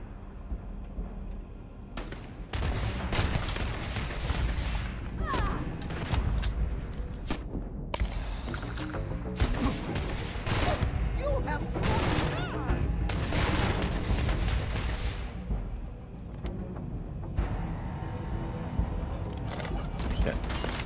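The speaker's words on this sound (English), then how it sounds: "That's shooting." Rapid bursts of gunfire in the space video game Starfield, loud repeated shots and booms in clusters over a continuous game soundscape, with some talk mixed in.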